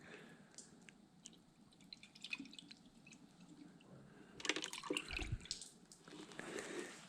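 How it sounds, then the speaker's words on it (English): Coolant poured into a Honda CBR 125 motorcycle and spilling onto the floor: faint dripping and splashing liquid, fairly quiet, growing louder and wetter toward the end. "time to refill the coolant and spill a bunch of it on the floor"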